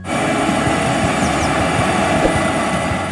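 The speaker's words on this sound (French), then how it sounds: "Le moteur tourne à plein régime pour déplacer cette charge massive à travers le champ." A tractor engine drones steadily at full revs while pulling a heavy load across a field, a loud, constant roar with no breaks and no voices.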